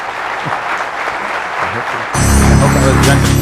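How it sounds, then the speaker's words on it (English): Audience applause bursts out loudly at a youth national summit stage session, a dense wash of clapping that follows a stretch of speech and continues to the end. "A big round of applause to these people on stage."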